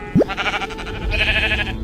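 A single Minecraft sheep gives a short, close bleat, followed by a brief wavering tail, with music or game ambience underneath.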